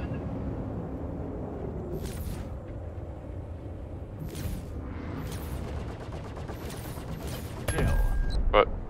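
Bursts of M7A weapon fire in the Star Citizen video game, several sharp broadband shots spaced through a steady background hum, with a louder close blast near the end.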